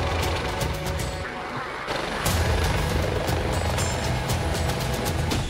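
An air ambulance helicopter thumps with loud, steady rotor chop and engine roar, close and dominating.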